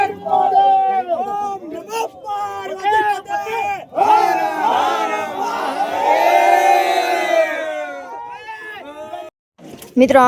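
Dense crowd of devotees at a Guru Dattatreya temple, a loud continuous babble of many voices with shouts and calls rising and falling, nearby chatter over it and a brief drop near the end.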